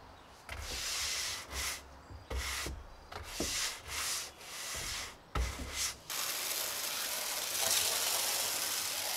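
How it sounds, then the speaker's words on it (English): A stiff deck brush scrubs cleaner into a weathered wooden deck, with repeated rough back-and-forth strokes in uneven bursts followed by a steadier, continuous scrubbing rasp. "Then I used the deck brush again to scrub that cleaner into the wood."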